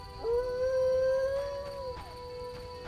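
A dog in The Witcher video game lets out a single drawn-out, wavering howl lasting about two seconds. It is clear and close over faint background ambience.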